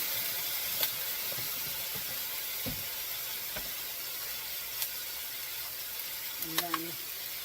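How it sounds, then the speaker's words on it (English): Garlic hits a hot pan for moo shu pork and sizzles in a loud, steady, broadband hiss, with a few faint clicks and scrapes over the constant frying. "And then I'm going to put in a generous amount of garlic."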